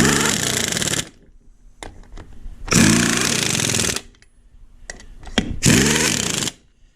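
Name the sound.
impact wrench tightening tire lug nuts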